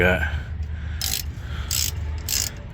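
A ratchet loosens the U-bolt nuts on a 2004 Ford F350 Super Duty leaf spring, giving three short bursts of bright metallic clicking at a steady pace over a low background rumble.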